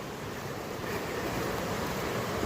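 Heavy winter rain falls in the woods of Devil's Glen, County Wicklow, making a dense, even hiss that swells slightly and carries no voices.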